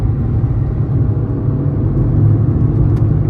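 A Fiat Egea 1.3 MultiJet diesel pulls steadily in third gear at about 90 km/h, a loud, continuous low engine drone and rumble heard from inside the car with no talking.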